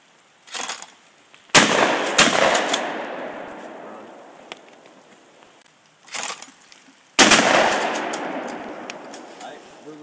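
Gunshots at a resort shooting range: a few loud, sharp reports, each with a long rolling echo that fades over several seconds, heard outdoors.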